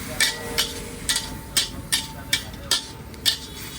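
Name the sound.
stirring special red chutney mixture in a pan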